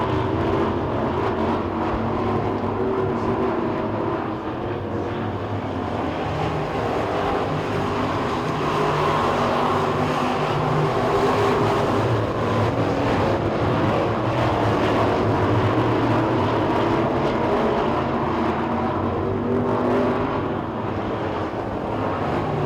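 Late model sportsman race cars run heat races on the Talladega short track, with a constant, loud, blurred engine roar from the field that surges slightly throughout.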